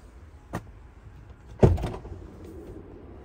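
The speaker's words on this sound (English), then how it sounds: "Electric sliding doors." A short mechanical thud, then a louder clunk with a brief whirring slide as the electric sliding door of a Volkswagen ID. Buzz van moves, against quiet background.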